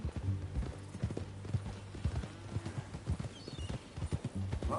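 Horse hooves clip-clop steadily in Red Dead Redemption 2, a quiet, even riding rhythm of dull thuds with no talk over it.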